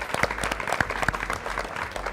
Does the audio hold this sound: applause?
yes